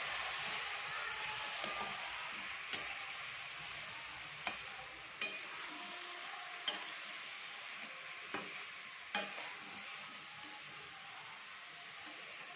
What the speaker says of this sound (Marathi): आता ह्याला अजून छान परतायला 5 मिनिट लागतात।